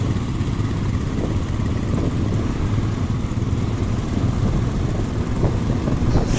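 Motorcycles of a bikers' group on a mountain road toward Arunachal, a continuous loud engine drone, near and steady without talk.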